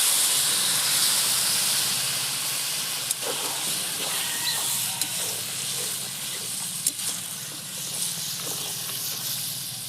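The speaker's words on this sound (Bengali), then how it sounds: "দিয়ে দিচ্ছি সামান্য অল্প একটু জল" A little water hits a hot pan of katla fish curry with potato and eggplant, giving a strong steam hiss that slowly fades over several seconds, with a few faint clicks and no talking.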